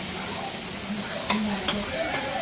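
Egg frying in a pan with chopped tomato and onion, a steady close sizzle with soft stirring scrapes and a couple of brief clicks of utensil against the pan.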